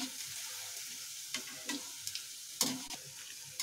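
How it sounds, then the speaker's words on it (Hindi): Poha vada balls fry in hot oil with a quiet, continuous bubbling hiss. A few sharp clicks and taps of a slotted spoon against the pan stand out, the loudest near the end, and there are no voices. "और बाकी बचे हुए बॉल्स भी मैं फ्राई कर लूंगी।"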